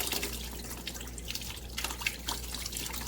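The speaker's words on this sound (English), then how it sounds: "Just going to pour some water down there." Water poured down an aquarium overflow during plumbing work on a 70-gallon tank, giving a steady close trickle with scattered drips and splashes over about three seconds, no voices.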